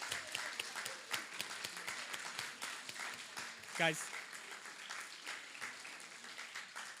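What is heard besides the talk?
audience applause for contest winners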